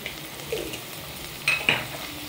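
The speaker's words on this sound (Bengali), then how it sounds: "তারপর একটু এটাকে নাড়াচাড়া করে নেব।" A spatula stirs banana blossom curry in a frying pan: soft sizzling with a couple of sharp metallic scrapes near the end of the short burst.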